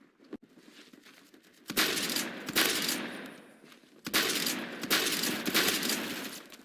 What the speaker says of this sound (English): I shot that guy in the head